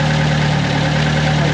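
A Jeep with an overhead-cam four-cylinder engine, 4-into-1 header and single muffler idles loudly and close by, a steady, even rumble with a low hum and no talking.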